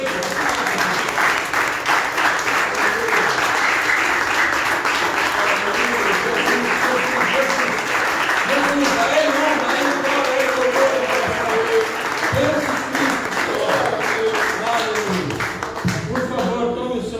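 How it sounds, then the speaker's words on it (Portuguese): A church congregation applauding, sustained loud clapping from a crowd, with voices and music mixed in underneath. "Aplaude mais uma vez."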